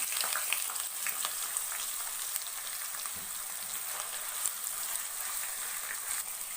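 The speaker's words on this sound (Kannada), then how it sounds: "ಸಾಸಿವೆ ಮತ್ತು ಜೀರಿಗೆನ ಸೇರಿಸ್ತಾ ಇದ್ದೀನಿ. ಅದ್ರ ಜೊತೆಗೆ ನಾನಿಲ್ಲಿ ಈರುಳ್ಳಿ ಮತ್ತು ಬೆಳ್ಳುಳ್ಳಿನ ಏನು ಇದು ಮಾಡಿ ಇಟ್ಕೊಂಡಿದ್ದೀನೋ ಇದನ್ನು ಕೂಡ ಇದ್ರ ಜೊತೆಗೇ ಸೇರಿಸ್ತಾ ಇದ್ದೀನಿ." Mustard seeds, cumin, onion and garlic frying in hot oil for a bitter gourd stir-fry, giving a steady dense sizzle with small crackling pops throughout, close and continuous with no voices.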